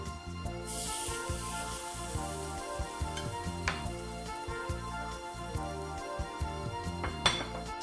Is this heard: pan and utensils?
yes